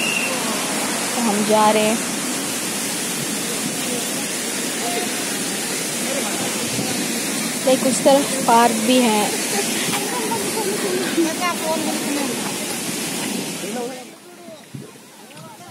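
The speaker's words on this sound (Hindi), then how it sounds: "देखो पानी कितना स्पीड से आ रहा पानी" Broad, steady rushing water from Pachara waterfall fills the scene as a continuous hiss, loud and close, with people talking over it before the roar drops away near the end.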